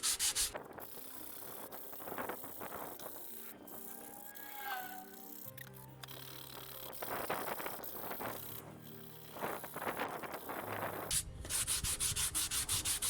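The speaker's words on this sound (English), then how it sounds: "So there we are, quite a splodgy old mess of filler, which now needs sanding." Sanding down lumpy filler on a piece of wood, heard up close as repeated scratchy rubbing strokes with short pauses in between.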